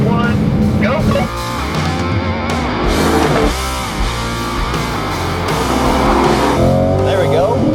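Two sports cars, a Chevrolet Corvette Stingray and a Toyota GR Supra, accelerate hard side by side in a rolling drag race; loud, continuous engine roar with rising revs and gear changes, and voices talk over it.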